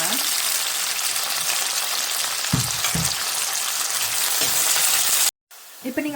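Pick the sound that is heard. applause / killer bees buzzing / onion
onion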